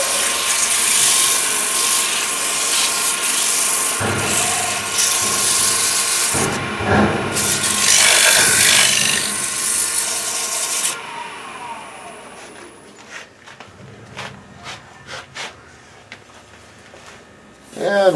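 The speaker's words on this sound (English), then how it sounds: "The sanding can go pretty quick." Sandpaper rubbing across a wooden piece while working through successive grits: loud, steady rasping strokes for about eleven seconds, then quieter intermittent scuffs and handling noises.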